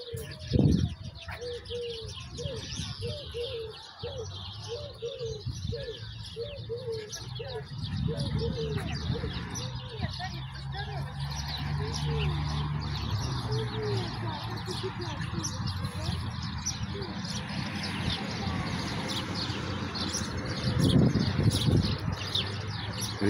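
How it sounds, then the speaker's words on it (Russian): Sparrows chirp steadily in a memorial alley in Stavropol, their twittering mixed with deeper cooing bird calls, while people talk nearby over the outdoor ambience. "Воробушки."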